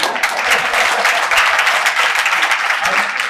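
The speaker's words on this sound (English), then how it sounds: "You can clap." An audience bursts into steady applause at an anniversary celebration, many hands clapping densely and loudly throughout.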